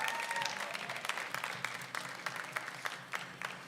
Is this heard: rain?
no